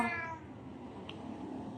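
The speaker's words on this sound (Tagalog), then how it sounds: "etong pusa na to" A cat meows once, close and clear, near the start, with steady low background noise behind it through the rest of the short moment.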